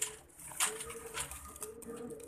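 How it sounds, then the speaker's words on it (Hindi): Pigeons coo softly in a low, faint murmur, with light rustling and a few brief clatters in the background. "सब उड़े हुए कबूतर हैं"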